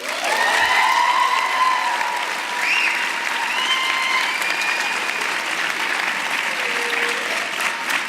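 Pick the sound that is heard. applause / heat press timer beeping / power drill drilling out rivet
applause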